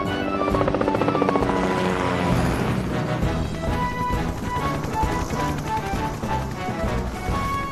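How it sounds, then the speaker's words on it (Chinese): An animated cartoon rescue helicopter flies in, its steady rotor drone running loud and continuous under busy background music. "汤姆开直升机来了"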